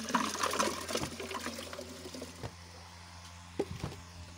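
Ice-cold water is poured into a batch of yogurt lassi being churned for butter, a close, fairly soft splash and trickle that tapers off, followed by a few faint clinks and taps.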